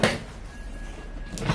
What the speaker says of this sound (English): I can hear your chair sound.